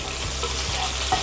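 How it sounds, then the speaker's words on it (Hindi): Red chillies, curry leaves and green chillies sizzling in hot oil over high flame for chicken 65: a dense, even crackling hiss with a few faint stirring knocks, close and steady, no talking. "फ्लेम को हाई करेंगे, लाल मिर्च डालेंगे, कड़िया पत्ता डालेंगे और हरी मिर्च डालेंगे"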